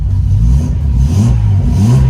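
A Nissan Fairlady Z S30 engine rumbles steadily with low, throaty revs rising and falling, loud and close, no voices.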